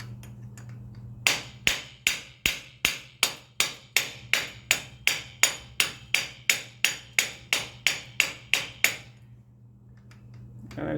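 A hammer drives a woodruff key into a Grubee Platinum Fire bike engine clutch, striking about twenty sharp, evenly spaced metallic blows at close range over a low steady hum, then stopping.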